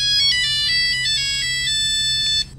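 A phone ringtone in a police roleplay video game plays a bright repeating electronic melody, loud and close, stopping abruptly near the end.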